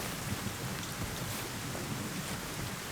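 Rain falling steadily, a soft continuous hiss of drops on surfaces at moderate distance, with no talking.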